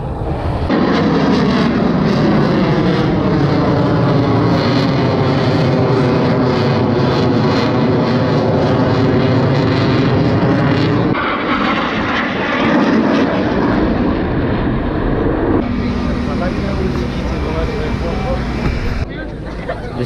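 Propeller or jet aircraft engines roar loudly overhead near an airport during an air show, one pass rising and falling in pitch as it sweeps by, followed by further sustained engine noise, heard continuously and close.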